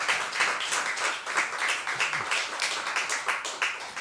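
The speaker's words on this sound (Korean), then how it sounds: "우리 박수로 이렇게" Church congregation applauding at the close of a Sunday worship service after a prayer, a dense, steady wash of many hands clapping together at moderate volume with no speech over it.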